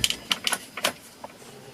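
A plastic dash trim panel on a 2004–2008 Ford F150 is pried loose, giving a quick series of sharp, close clicks and snaps over under two seconds, then a faint final tick.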